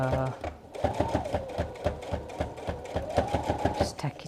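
A sewing machine runs a visible top stitch along a square cushion pad, its rapid needle stitching pulsing steadily and fairly close for several seconds, with a voice talking faintly underneath.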